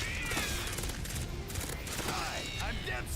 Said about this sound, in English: Oh my goodness, this gun is useless.